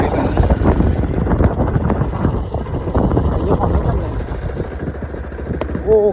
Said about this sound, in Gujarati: બાઇક લઈને ફરી રહ્યા છીએ વચ્ચે મેદાનમાં